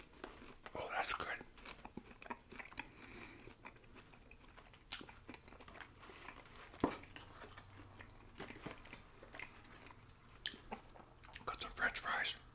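Close, quiet chewing and crunching on a bison burger topped with fried onions, with irregular bites and soft mouth sounds spread throughout, and faint whispered talk in between.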